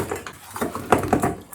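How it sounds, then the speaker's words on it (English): Spoon mixing buffalo chicken wings in a bowl, giving a short run of wet clinks and scrapes against the bowl with a few louder knocks near the end, close and brief. "with the help of a spoon, I'm just going to give it a mix"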